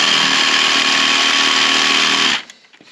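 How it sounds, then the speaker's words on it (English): A jigsaw cuts through a solid wooden rafter board on a shipping container barn, buzzing loud and close with a steady high whine for over two seconds, then stopping abruptly as the blade winds down. "Instead of running my saw past to complete this cut, I just like to use a jigsaw."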